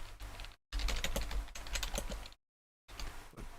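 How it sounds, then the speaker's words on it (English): Computer keyboard typing in quick bursts of clicks, fairly close, broken by two short silent gaps, with no voices. "See if my typing doesn't come off as much."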